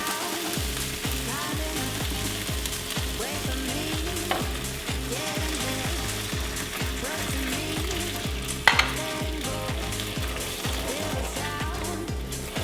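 Cambodian prahok dipping sauce cooks in a pan with a regular, rhythmic scrape of stirring over a constant sizzle. It is close and even throughout, and one brief clink stands out.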